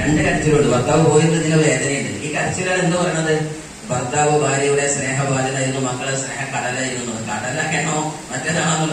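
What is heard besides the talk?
No everyday noises stand out.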